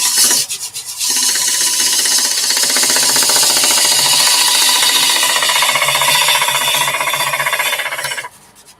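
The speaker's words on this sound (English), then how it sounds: "Just stop the lathe a minute and have a look there." A wood lathe turns a piece of red gum while a tool cuts into it, producing a loud, close, continuous rasping and chattering scrape that holds for about seven seconds before dropping away.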